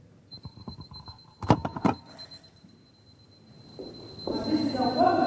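A kitchen timer ticks in a quick, even run of clicks beneath a thin, constant high tone, with a few louder knocks in the middle and a burst of louder noise near the end.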